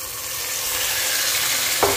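Marinated mutton hitting a pan of frying onions and whole garam masala, a loud continuous sizzle with a brief sharp clatter near the end, no voices.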